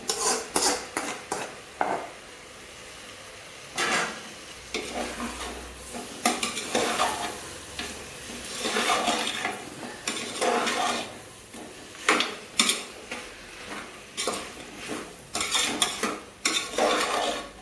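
Cooked mutton being stir-fried in masala for biryani, a spatula scraping and clattering against the pot in irregular bursts over a soft sizzle, close and fairly loud with no talking.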